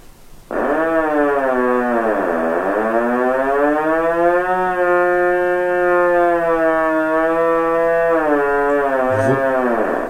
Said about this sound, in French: Le térémine, voilà ce que ça donne